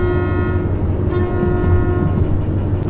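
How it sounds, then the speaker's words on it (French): A locomotive horn in the Derail Valley train game sounds as one long, loud, sustained tone over the rumble of the moving train. "On a notre klaxon."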